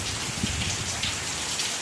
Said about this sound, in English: we're finally getting some well-needed rain here